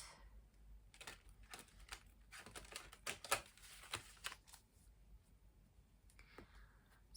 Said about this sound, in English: So I'm gonna shuffle the cards.